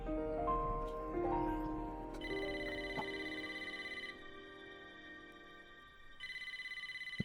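A phone ringing in the video game Wuthering Waves, a repeating electronic ringtone pulsing in bursts over soft game music, fairly quiet.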